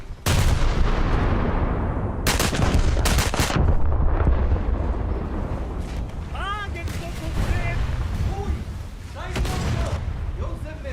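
Land-based guns firing at a battleship in a naval combat video game, heavy booming shots arriving in several loud bursts between stretches of rumbling battle ambience, with faint chirping effects in the middle.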